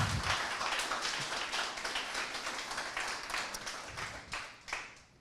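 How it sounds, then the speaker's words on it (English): A conference audience applauds steadily, a dense wash of many hands clapping that holds throughout at a moderate level and fades slightly at the end. "Like, round of applause for Bruce and Maggie."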